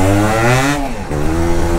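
A Yamaha DT200R motorcycle engine runs hard on a night ride, loud and close, its buzzing note easing down briefly and then climbing again as the throttle opens.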